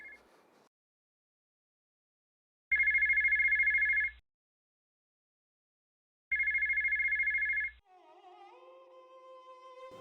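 A telephone rings in two long, loud electronic bursts separated by silence, followed by a higher warbling tone, in an indoor domestic scene with no talk over the rings.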